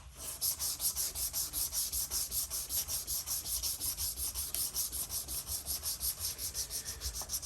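Steady rhythmic back-and-forth sanding strokes rub across a wooden surface, close and continuous, each pass producing a bright scratchy hiss in an even repeating pulse.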